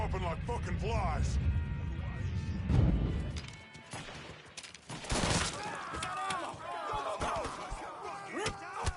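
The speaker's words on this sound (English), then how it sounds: "We got gunfire!" Gunfire and crashing impacts ring out in a Mafia 3 shootout, with bursts of shots and loud smashes under excited shouting voices.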